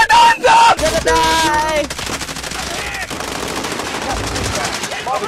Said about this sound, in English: They shot me from everywhere.